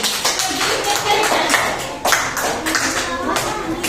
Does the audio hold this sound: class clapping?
yes